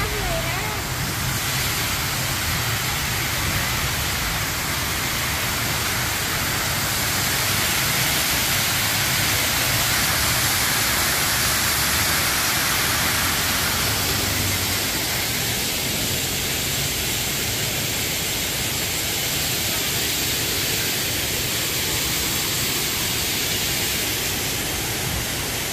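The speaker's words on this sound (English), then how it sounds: "Look at the waterfall." Waterfall at Hinulugang Taktak National Park, a steady, loud broadband rush of falling water that fills the whole stretch without a break, with voices talking faintly underneath.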